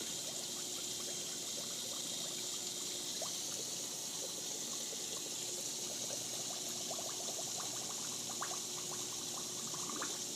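Water trickles and pours steadily into a pellet reactor, with faint bubbling of air being pushed out running under a continuous hiss.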